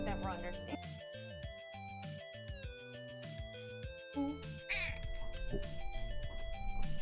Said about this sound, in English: You guys hear the meow?